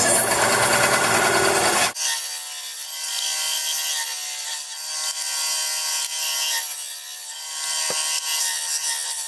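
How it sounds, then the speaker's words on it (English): A saw cuts steadily through elk burl and antler knife handle blanks. A loud, harsh burst opens the run, then a continuous rasping drone follows, close and unbroken. "I think I'm going to cut them down to about 1/2 inch"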